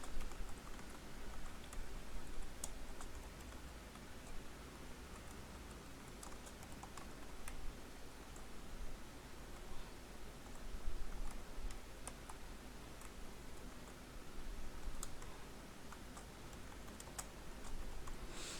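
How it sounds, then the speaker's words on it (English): Steady clicking of a computer keyboard, close by, typing in continuous bursts with no voices. "So I am typing here"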